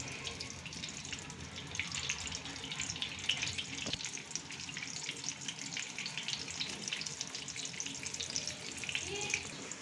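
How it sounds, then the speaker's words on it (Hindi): Potato tikkis fry in ghee on a flat tawa griddle with a steady, soft sizzle and a faint crackle that runs on evenly throughout, with no one talking. "फिर हम इस तरह ऊपर टिक्कियों को लगा लेंगे।"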